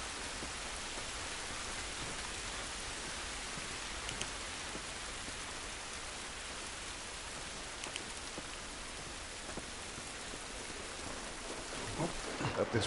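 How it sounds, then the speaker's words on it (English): Steady rain falls outdoors in a continuous, even hiss of drops on surfaces, a broad wash of sound filling the whole stretch with a few faint patters and knocks near the end. "It's raining, don't do us any good."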